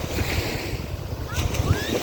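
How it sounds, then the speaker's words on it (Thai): Surf breaking along a Thai mainland beach near Suan Son, a steady broadband wash of waves with wind buffeting the microphone, loud and continuous across the short stretch. "ดูสิ คลื่นแบบสนุกแบบคลื่นมากๆ"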